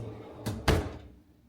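A deep kitchen drawer in an upgraded chef's kitchen slides shut with a soft rumble and then a solid thunk, close and fairly loud, with no talking.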